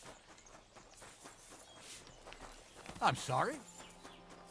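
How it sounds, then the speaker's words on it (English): Hooves of a fancy horse in Kingdom Come: Deliverance II clop at a steady walking pace, close and moderately loud, with a brief spoken apology partly over them. "Ooh, fancy horse"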